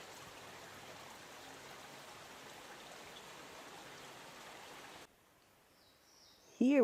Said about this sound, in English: Yet another creek crossing.